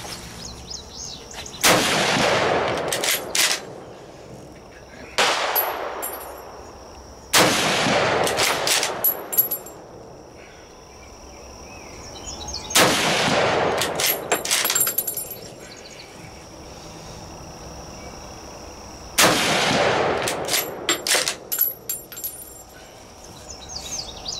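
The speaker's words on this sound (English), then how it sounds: "I'm just one shots of me shooting a rifle." A Mauser Kar98k bolt-action rifle fired outdoors, five loud single gunshots spaced several seconds apart, each with a sharp crack and a long rolling echo, with bolt clatter between shots.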